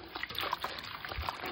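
Turnip greens swirled by hand in a basin of wash water, giving a soft, continuous trickling and sloshing close by, quiet and brief, with no talking.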